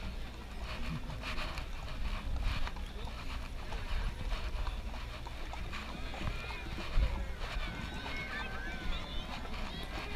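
Steady clip-clop of horse hooves walking in the Tucson Rodeo Parade, with constant outdoor rustle and a voice talking in the background.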